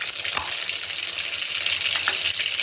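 Mustard seeds sizzle and crackle in hot oil, a dense, continuous hiss with scattered sharp pops, close and steady, with no talk.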